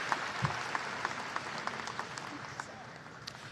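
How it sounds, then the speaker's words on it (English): An audience at a university new student convocation applauds, a soft, steady patter of clapping from a crowd, fairly distant and even throughout with a few sharper claps standing out. "Let's have a round of applause for these fantastic campus leaders and our alma mater."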